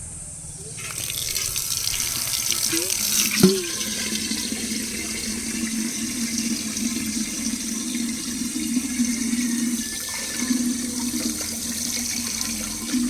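Water runs steadily from a tap while a tank is washed and cleaned, a continuous close splashing stream with a brief knock partway through, steady until the end.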